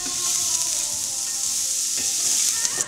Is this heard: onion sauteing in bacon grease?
yes